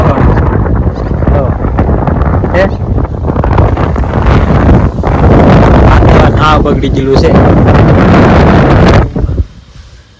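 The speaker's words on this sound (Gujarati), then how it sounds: "કેમ કે પવન એટલો ફેંકે જાણે તો વાવાઝોડું આવ્યું એવું લાગે" Strong wind buffets the microphone in loud, roaring storm gusts on a farm, with a voice speaking briefly before the noise drops away at the end.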